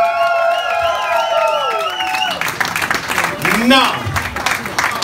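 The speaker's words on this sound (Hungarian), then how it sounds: "légy oly kedves felfáradni a színpadra egy nagy taps kísérletében" Audience at a live comedy stage show breaks into applause and cheering as a performer is called up, a loud crowd roar with scattered whoops following a voice talking over sustained tones.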